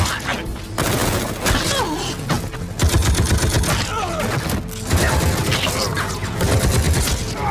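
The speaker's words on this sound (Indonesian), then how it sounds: "hingga terjadilah aksi baku tembak sengit" Gunfire rattles through an action film shootout, with dense bursts of rapid shots and sharp cracks repeating in close, loud volleys amid heavy rumbling and some impact debris.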